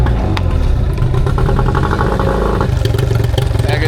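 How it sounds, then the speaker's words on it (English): A boat's outboard engine running while being flushed with fresh water from a van at a beach camp, a loud, close, steady chugging idle with rattly mechanical clatter throughout. "I can actually crank this boat up and flush the engine with a bit of fresh water from the van"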